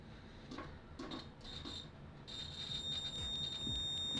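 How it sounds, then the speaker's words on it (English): A multimeter's continuity test beeps on a fuse, a thin high electronic tone that sounds in short bursts, then holds steady, faint, over light handling noise. "Let's do a quick check on that fuse, see if we have some continuity going on here."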